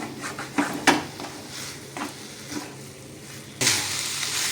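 Chhana and sugar being stirred in a pan for sandesh: soft continuous sizzle with scattered scraping strokes, getting louder and brighter near the end.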